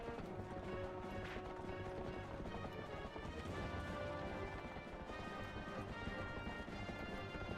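A horse gallops through a field in The Legend of Zelda: Twilight Princess, with rhythmic hoofbeats under continuous game music and ambience, steady and moderately loud throughout.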